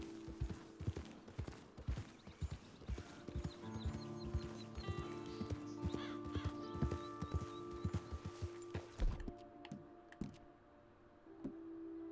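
Horse hooves clip-clop steadily through the muddy town of Rhodes in Red Dead Redemption II, with regular hoof beats over game music, livestock and ambient town noise, and a possible brief whinny.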